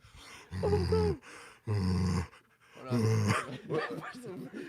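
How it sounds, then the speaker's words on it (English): Heavy rhythmic panting breaths close to a microphone, in long huffing bursts with short gaps, rough and breathy. "If I hear panting into a microphone"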